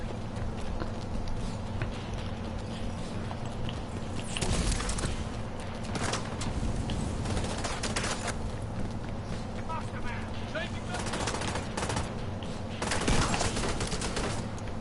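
Rapid gunfire bursts from a video game firefight, loud and dense throughout, with sharper volleys near the middle and end, mixed with clattering footsteps and game effects while people talk over it.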